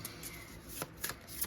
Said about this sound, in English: I did shuffle these really well